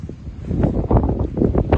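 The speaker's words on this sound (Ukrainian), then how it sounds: "Сильний вітер у нас" Strong wind gusts batter the microphone in heavy, uneven low-pitched bursts of rumbling noise.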